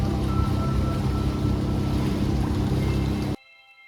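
A small rowing boat on the water in Kashmir, carrying a continuous rushing wash of water and wind that stops abruptly near the end, leaving near silence.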